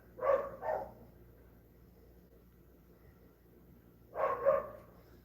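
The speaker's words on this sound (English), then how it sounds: "that's the neighbor's dog also is barking" A small black and white neighbourhood dog barks in two short pairs of yaps separated by a quiet pause, moderately close and clear with no talk over it.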